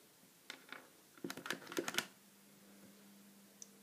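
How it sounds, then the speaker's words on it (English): The lever of a small LEGO candy machine is pushed and pulled, producing a brief cluster of light plastic clicks and rattles up close, then quiet with one faint tick afterward. "just push the lever and pull and get a piece of gum"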